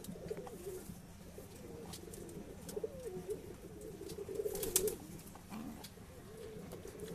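A breeding pair of high-flying pigeons coos inside a loft, steady low throaty rolling calls repeating close by at moderate volume, with a sharp click partway through.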